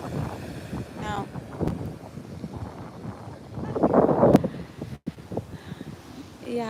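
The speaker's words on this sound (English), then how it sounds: "It's very windy." Strong wind roars and buffets the microphone in uneven gusts at a seaside jetty, with a person talking intermittently over it.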